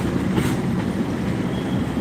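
A train passes on a railway line in Indonesia, heard as a steady, loud rumble of rolling wagons with no break in the noise.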